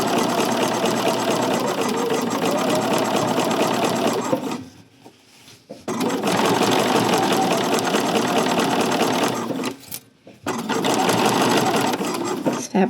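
Sewing machine stitching a dart on a 1950s vintage-style coat, a steady loud motor whir in long continuous runs with two short pauses between bursts.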